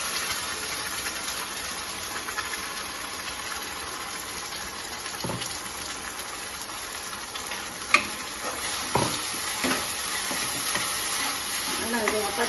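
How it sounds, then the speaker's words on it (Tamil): Onions and ground masala sauté in a pan for fig fry, with a steady close sizzle and a few scattered stirring scrapes and clatters against the pan. "நல்லா பச்சையாக அரைச்சதுனால நல்லா கொஞ்சம் நேரம் வதக்கணும்."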